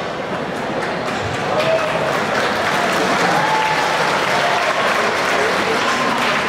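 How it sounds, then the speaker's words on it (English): Audience applause at a Bronycon Summer 2012 convention panel on the psychology of bronies, a dense steady wash of clapping from a large crowd that holds loud and even throughout, with faint voices mixed in. "Oh, please don't applaud for that."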